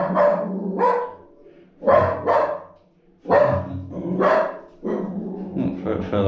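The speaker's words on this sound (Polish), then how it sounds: "No, Fela poszła szczekać." A dog barks in loud, close bursts, about five or six sharp barks in uneven pairs separated by short pauses, outdoors after house painting.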